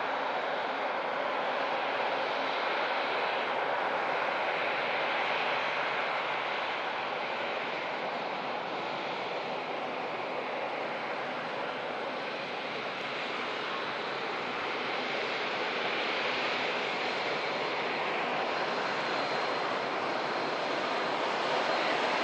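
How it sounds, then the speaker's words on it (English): An easyJet airliner departing, heard as a steady, broad jet roar that holds fairly even throughout with a slight swell near the end, no voices over it. "EasyJet Air just departing."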